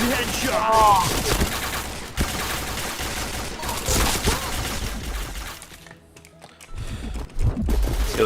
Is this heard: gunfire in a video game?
yes